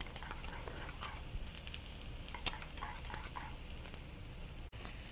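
Béchamel white cream sauce being stirred in a pan, a soft continuous sizzle with faint scraping strokes of the spoon, quiet and close with no voices.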